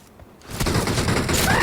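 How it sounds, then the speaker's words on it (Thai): Gunfire in the mobile video game PUBG Mobile on the Livik map, quiet at first and then a sudden burst of dense, loud, rapid shots that keeps going to the end. "ได้ยินเสียงปืนอยู่"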